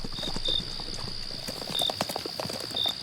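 A horse's shod hooves clip-clop steadily at a walk, a mare with a pebble lodged in a front horseshoe, close and clear against a faint steady high hum, with no talk.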